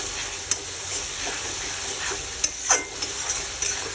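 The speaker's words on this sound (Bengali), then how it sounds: "আর একটু কষিয়ে নেব" Spice masala for a Bengali-style chicken curry stir-fries in oil, giving a soft continuous sizzle with a few sharp clicks and scrapes of a spatula against the pan at irregular intervals, close but fairly quiet.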